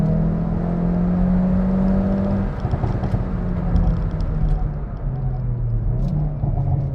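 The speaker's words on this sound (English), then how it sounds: "The bubbles that you get from the exhaust, it's just, oh man, what a car" Engine of a 2022 Hyundai i30N facelift with 206 kW turbo engine and 8-speed DCT driven hard in N mode, a steady near rumble with droning tones rising and falling as revs change, exhaust crackle faintly scattered on top.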